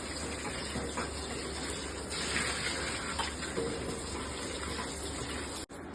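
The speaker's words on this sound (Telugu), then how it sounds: "దీన్ని శుభ్రంగా వాటర్తో వాష్ చేసుకొని" Chicken leg pieces are rinsed under steady running tap water in a kitchen sink, a continuous close gushing splash with no one talking.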